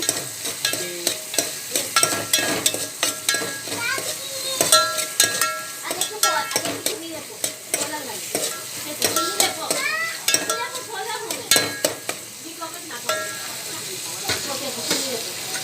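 Tomatoes frying with onions in a pan are stirred steadily, a constant sizzle under repeated scraping and clinking of a spoon against the pan, close and fairly loud throughout.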